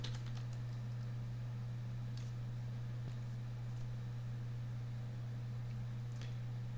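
Fingers type an email address on a computer keyboard during a Windows setup, a run of light, quick key clicks over a loud steady electrical hum.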